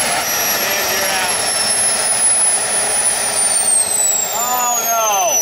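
Loud jet turbine engine on an R/C truck, a steady high whine and roar that winds down in pitch, close by, with a faint voice at moments.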